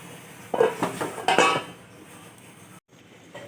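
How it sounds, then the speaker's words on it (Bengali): A lid is set onto a cooking pot of simmering vegetarian rice with pointed gourd and potatoes, giving two clear metallic clanks with a brief ring, followed by quiet kitchen background. "এখন আমি এটা কিছুক্ষণ ঢাকা দিয়ে রাখবো"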